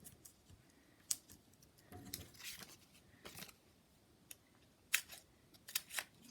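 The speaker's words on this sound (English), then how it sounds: "you can always cut these dimensionals up a little smaller" Scissors snipping foam dimensionals for a Christmas card, a handful of quiet crisp snips scattered at irregular intervals with faint rustling handling between them.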